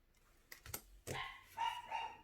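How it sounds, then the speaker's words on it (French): A female dog gives a few quick, faint barks and yaps in an indoor room, with short bursts separated by brief pauses. "Pardon, c'est ma chienne."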